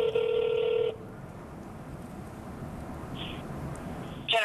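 Telephone dialing on a police-chief call: a loud, steady keypad tone for just under a second, then a quiet line hiss with a faint beep near the end.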